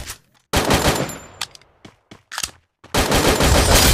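Gunfire from the Garena Free Fire battle-royale game in lone wolf mode: loud, close bursts of rapid shots separated by brief gaps, ending in a sustained heavy volley, with no talking.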